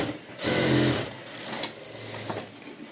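Sewing machine stitching along the side seam of a small child's blouse, a short burst of whirring needle action followed by a quieter pause and a light click.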